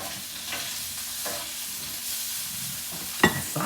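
Sausage links frying in a pan, a steady close sizzle with soft crackles and a brief sharp clink near the end.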